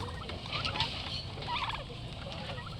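A flock of domestic turkeys, some about four months old and others around three months, gobble in a shared pen: bursts of rapid, warbling gobbles overlap one another at moderate distance over a constant farmyard background.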